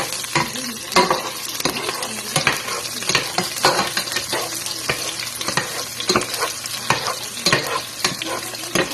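Onions frying in a pan for adobo, with continuous close sizzling and frequent rhythmic scrapes of a spatula stirring through them, loud and without talk.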